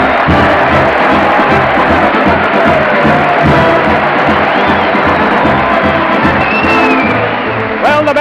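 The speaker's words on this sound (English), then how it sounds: "the crowd's cheering" A large crowd roars and cheers continuously at a 1935 Town Hall parade, a dense loud wash of voices with whoops rising through it and no break for the whole stretch.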